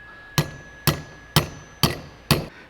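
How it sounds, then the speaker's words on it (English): Five sharp metallic hammer blows, evenly spaced about half a second apart, knocking the handle off a transport tank valve on a workbench; each strike rings briefly with a faint steady tone between them, no voices. "take your hammer, pop the handle off, put it aside"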